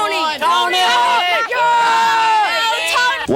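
A crowd at a 1988 NSA skateboarding contest in Louisville, Kentucky cheers and whoops for the skaters, a loud, continuous mass of shouting voices with rising yells throughout.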